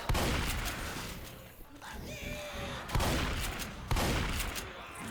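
Gunfire in the video game Left 4 Dead 2: loud bursts of shots strike at the start and again near the three- and four-second marks, with a dense, rattling wash of sound in between.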